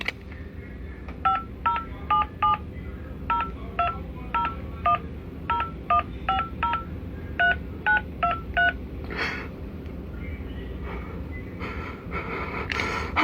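Telephone keypad DTMF tones sound in quick clusters of beeps as a 16-digit card number is entered, loud and close over a steady low background hum.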